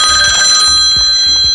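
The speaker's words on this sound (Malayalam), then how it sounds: "നോക്കി നിൽക്കാതെ ഫോൺ എടുക്കണോ?" A telephone rings loudly in a comedy sketch, a steady electronic trill that repeats in short pulses without any speech.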